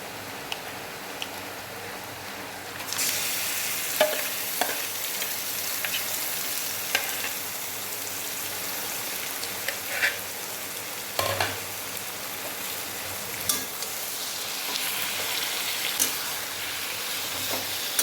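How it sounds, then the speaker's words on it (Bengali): Mutton is tipped onto frying onions for a Bengali mutton kosha; a quiet sizzle swells louder after the meat goes in, with stirring scrapes and clinks close by. "পেঁয়াজটা ভাজা ভাজা হয়ে গেলে আমি এখানে মাংসটা ঢেলে দেবো।"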